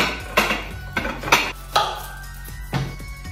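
Metal pots and pans clatter and clank in a home kitchen during cooking, five or six sharp separate knocks spaced unevenly over a few seconds, close and fairly loud, with no talking.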